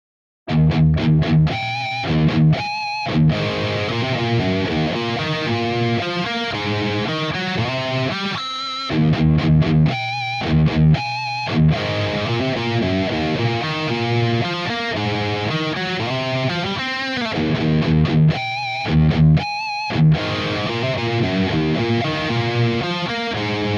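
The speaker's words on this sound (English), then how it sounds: "we get into our verse riff" Verse riff from a song played loud on a distorted electric guitar, rhythmic chugging chords with short stops and accents, alone for about twenty seconds.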